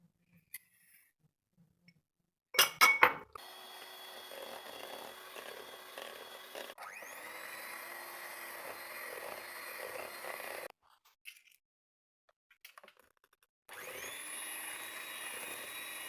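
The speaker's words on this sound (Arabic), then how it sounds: "احنا هسه بدنا نخفق الزيت مع السكر" Frying oil and sugar being whisked for cake batter, a steady whirring drone that starts abruptly after a few sharp knocks, cuts out midway, then resumes after a short pause.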